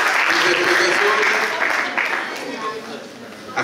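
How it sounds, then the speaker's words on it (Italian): Concert audience at a December calendar presentation event in Termoli clapping, a burst of applause that is loud at first and gradually tapers off, with some voices mixed in. "Un applauso."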